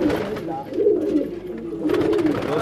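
Domestic pigeons, including Gulddar Shirazi fancy breeds, coo steadily inside a pigeon loft, their low rolling calls close and continuous with rustling in the background.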